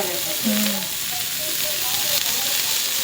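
Oil sizzles steadily in a home kitchen pan as onion fries for an Uttar Karnataka chutney dish, a continuous close hiss with faint stirring and brief background voices.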